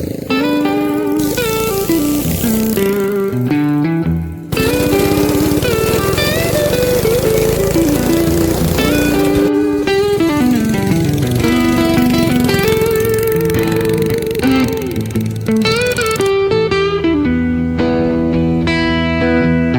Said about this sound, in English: it pops and bangs like a firecracker